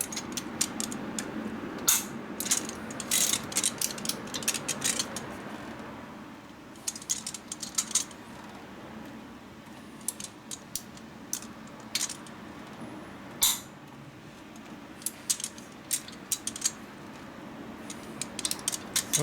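Ratcheting clicks and metallic clinks from a torque wrench tightening bolts on a 1979 Harley-Davidson 93ci Shovelhead engine during a motor rebuild, a series of short separate click bursts close by, with no talk.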